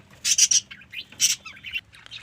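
Small white pet birds kept at home give bright chirps and squawks in two quick bursts, a triple call followed by a single one, with fainter tweets trailing after, close by and clear with no talking.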